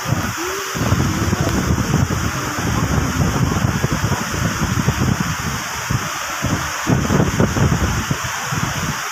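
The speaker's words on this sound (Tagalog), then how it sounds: "Kasi umuulan na naman, no? Ayan na naman ang ulan." Rain pouring on a Boracay beach during low-pressure weather, a dense, loud, continuous hiss mixed with gusty wind noise, steady throughout.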